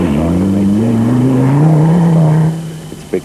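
Juha Kankkunen's heavy Dakar rally car, its engine droning and rising steadily in pitch like a sustained rev, loud and close, then dropping off abruptly near the end with a brief thump.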